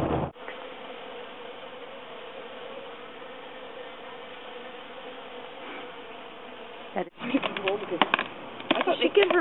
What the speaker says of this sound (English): we are bringing home our bees